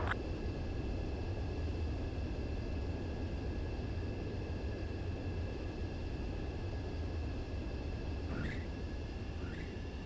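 Fighter jet on a landing approach in Ace Combat 7, a steady loud engine roar with a constant whine, continuous throughout and alone, with two brief chirps near the end.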